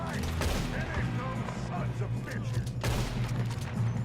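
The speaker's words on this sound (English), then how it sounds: "Good shooting, kid." Gunfire from the video game Red Dead Redemption 2 during a train robbery comes as a dense fusillade of shots. A sharp burst near the middle stands out over a rumbling background.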